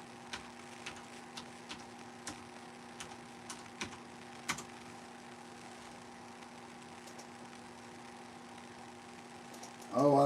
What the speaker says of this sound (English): I can type it in.